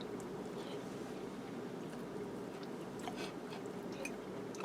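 Someone bites and chews a mouthful of biscuit and gravy casserole with egg, cheese and sausage: soft, moist chewing close to the mic over a constant low background hum, with no talk.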